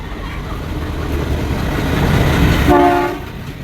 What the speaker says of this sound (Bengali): এটা শুধু ইঞ্জিনের বগি যাচ্ছে গাইস, এটা পুরোটা ইঞ্জিন যাচ্ছে